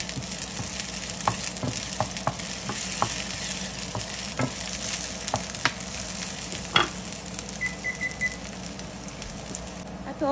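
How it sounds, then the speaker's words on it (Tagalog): Garlic and onion fry in hot oil in a pan for sweet and sour tilapia, giving a continuous even sizzle with scattered light taps and pops, and no talking. "Ready ko na rin yung pan na may oil at nagsatay lang ako ng bawang at sibuyas."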